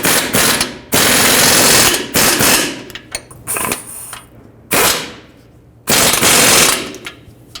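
Ratchet wrench torquing the strut mounting nuts on a 2015-2020 Ford F-150 front strut, in loud rapid clicking bursts of about a second each, separated by short pauses, close up with no talking.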